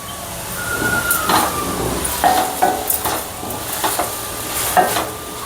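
Onions for methi kootu sauté in a pan with a steady soft sizzle, and a spatula stirring and scraping in several distinct strokes close by.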